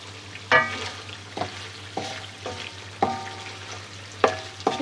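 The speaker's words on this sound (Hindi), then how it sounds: "ये आपने इसको सिर्फ 5 मिनट अब भूनना है काली मिर्च डाल के।" Chicken karahi with black pepper frying in a wok, a low sizzle broken by a regular series of metallic spatula scrapes and clanks against the pan, about one every second.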